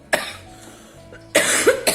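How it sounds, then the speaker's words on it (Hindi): A woman with a persistent cough, part of an infection running through her family, coughs in two loud bursts: one sharp cough near the start and a harsher double cough toward the end, with quiet room noise between them. "बहुत ही खांसने लगी हूँ।"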